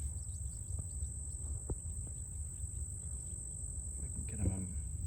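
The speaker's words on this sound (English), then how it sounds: "There's lots of crickets around." Crickets chirp in a constant high, shrill drone along an Atlantic coast path where leopard frogs live, with light rustling and a brief voice near the end.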